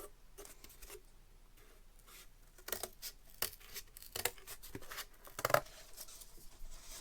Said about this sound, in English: see if my heavy duty pair of scissors here will cut through this